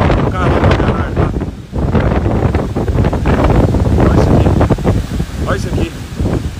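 Strong wind gusts batter a house, roaring and buffeting loudly against the microphone in continuous rough bursts while people talk excitedly over it.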